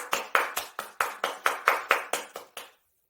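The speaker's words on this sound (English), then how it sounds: "Let's give another round of applause" About a dozen evenly spaced claps ring out at a symposium in a steady rhythm, fairly close, then stop abruptly into silence.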